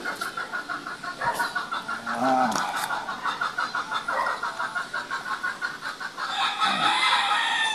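An aggressive chicken clucking close by in short repeated bursts, with rooster-like calls and other fowl sounds mixed in over a faint background.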